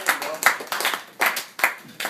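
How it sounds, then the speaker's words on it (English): An audience at a motivational talk claps for a young speaker being introduced on stage, with several uneven swells of applause; voices and cheering mix in underneath. "give Mark a round of applause"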